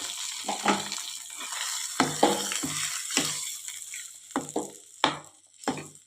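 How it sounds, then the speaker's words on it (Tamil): Sambar is stirred into cooked rice with a spoon, giving a series of distinct wet, scraping strokes at an uneven rhythm. The sounds are close and clear against a quiet background. "இதை வந்து நம்ம சாதத்தில் சேர்த்து நல்லா கிளறி விட்டுக்கலாம்"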